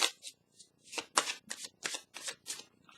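A deck of tarot cards is riffled and shuffled up close in a quick run of about eight crisp, papery bursts, quiet and with no talking.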